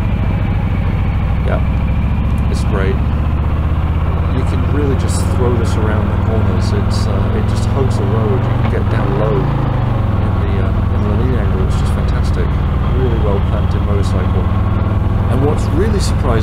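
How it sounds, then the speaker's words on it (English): A 2020 Harley-Davidson Low Rider S with the 114 engine rumbles low and steady while being ridden, mixed with constant wind and road noise as the rider talks over it throughout. "This 114 has just got a great low growly sound."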